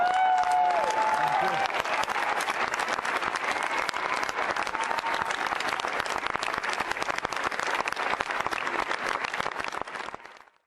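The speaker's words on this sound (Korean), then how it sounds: "시사회가 영화가 상영된 뒤에 거의 10분 가까이 기립박수를 받는데" Dense, sustained standing ovation from a large premiere audience after a film screening, steady broadband clapping filling the hall for about ten seconds before fading out at the end, with a few voices briefly audible at the start.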